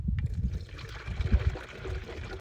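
Distilled water poured into an oversized aftermarket radiator on a Mazda Miata, a steady close trickling and gurgling fill that runs for the whole stretch with small surges in flow.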